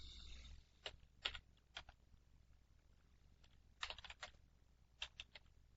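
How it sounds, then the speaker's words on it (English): Typing on a computer keyboard in short, quiet bursts of clicks separated by pauses, close and alone. "let's type"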